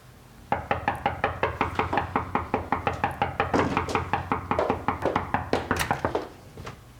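Rapid, insistent knocking on a door, a long run of loud, close, evenly spaced raps lasting several seconds before stopping, with no voices over it.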